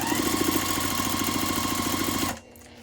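A sewing machine runs a straight stitch along a folded interfacing edge on a pocket, its steady rapid mechanical chatter loud and close before it stops abruptly near the end.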